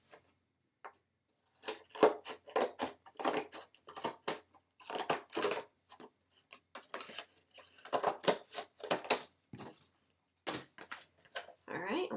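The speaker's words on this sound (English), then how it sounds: "I'm going to cut this right here because I only want this rectangle part" Scissors cut paper to trim off tabs for a pop-up room craft, producing a series of close, irregular snips and rustles spread across the clip, with quiet gaps between cuts.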